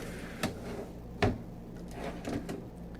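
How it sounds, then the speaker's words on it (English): Deep, solid kitchen drawer in a 2011 Discovery 42A motorhome running on a tight roller setup, giving a few soft sliding thumps and rolling rumbles at close range, with a sharper knock midway. "Solid drawer with a tight, nice feeling roller setup so you could put heavy pots and pans down in here"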